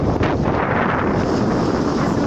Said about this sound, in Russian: Но очень большой ветер, сильный такой ветер, с моря таким прохладой.